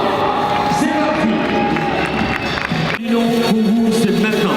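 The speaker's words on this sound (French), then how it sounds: "On y va sous les applaudissements avec les premiers pas" A crowd at a bodybuilding competition in Colmar cheers and claps as contestants walk onto the stage, a loud, dense roar with whoops over music and voices that carries throughout.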